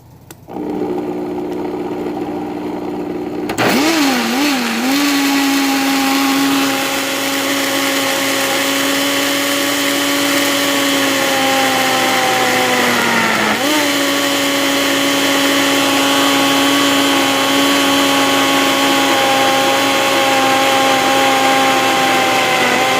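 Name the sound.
blender running, blending sea moss gel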